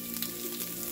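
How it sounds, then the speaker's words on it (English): Sausage reheating in a pan sizzles and crackles in a steady, close, even frying hiss, with no voices. "I'm just gonna reheat the sausage"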